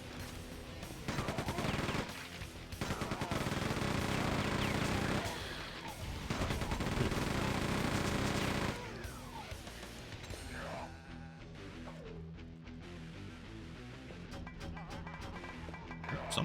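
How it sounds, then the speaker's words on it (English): Grenade launcher fire and explosions in Quake 2 come as dense, loud bursts of blasts and gunfire in several heavy waves, then thin out into scattered, quieter shots. "Someone's shooting grenades."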